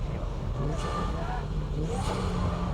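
A car's engine drones and revs as the car understeers through a drift, the engine steady and fairly close, with a voice talking over it.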